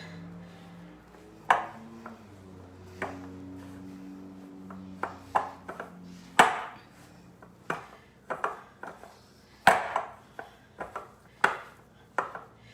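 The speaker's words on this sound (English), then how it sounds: "So I'm just pushing the flour into the peanut butter and banana, making sure it's all getting mixed in." Mixing flour into a peanut butter and banana dough produces a series of sharp, irregular knocks and scrapes of a utensil against a bowl, growing more frequent, with a low hum underneath and no talking.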